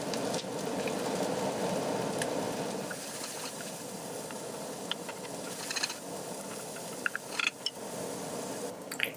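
Diced mushrooms frying in a pan with shallot, a soft, steady sizzling hiss up close, fading slightly midway, with a few light utensil clicks toward the end.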